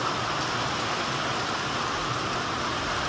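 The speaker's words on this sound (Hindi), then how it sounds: "सुन ली भगवान ने, आ गई बारिश" Rain comes down in a continuous, even wash of noise with a low rumbling undertone, steady and unbroken for the whole stretch, with no voices.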